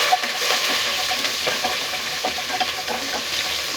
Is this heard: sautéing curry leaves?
yes